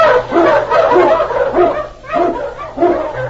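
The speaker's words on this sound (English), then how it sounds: "King, the swiftest, strongest of Eskimo lead dogs, blazes the trail through storm and snow for Sergeant Preston" Eskimo husky sled dogs bark repeatedly in a storm and snow setting, several loud close yips and barks coming in quick rhythmic bursts with a few whimpering tones.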